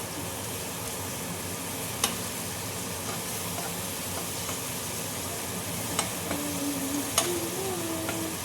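Onions sizzle gently in a pan while cooking down for a Kerala fish molly, a soft, steady frying hiss with a few sharp ticks and light clinks of a utensil, and no talking.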